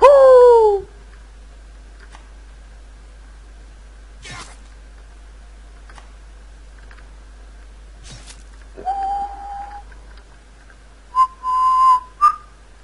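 A person whistles a few short, rising tones with pauses between them, alone and fairly quiet, with brief clicks between phrases and a louder burst of notes near the end, during a Happy Wheels game session at night.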